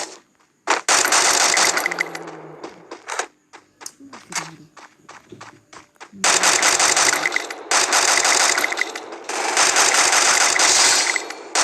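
Loud bursts of automatic gunfire in a shooting game, long sustained volleys broken by a stretch of quick single shots and short gaps, close and harsh, with no talk over them.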